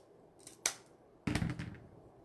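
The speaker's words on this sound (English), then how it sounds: "Or I can sharpen my scissors." Two crisp snips from a pair of scissors cutting material during wreath crafting, a short sharp cut followed by a longer, fuller one about half a second later, close and clear with no talking.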